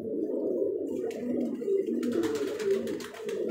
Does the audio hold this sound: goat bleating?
no